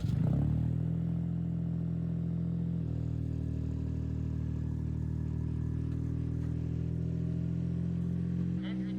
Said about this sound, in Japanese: エンジンかかって液水ポンプも動いていますので